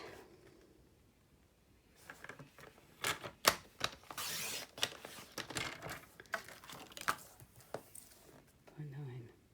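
Scissors snip through a strip of paper card for a fold card craft, with several crisp close cuts and rustles in the middle, some speech quietly around them.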